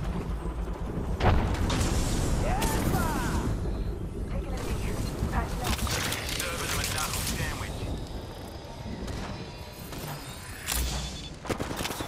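Artillery barrage firing for effect in a video game: repeated booming blasts and gunfire crackle across the whole stretch, loud and dense, with voices talking over it.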